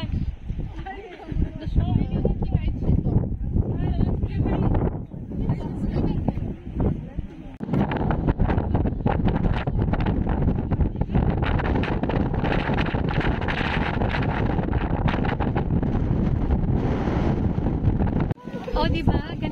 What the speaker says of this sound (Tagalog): Ganito kalakas ang hangin dito sa tuktok ng bundok.